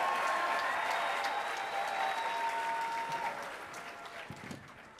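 A large crowd at a San Diego Comic-Con panel for a Lego Batman game claps and cheers continuously, loud at first and gradually tapering off, with a few whoops audible.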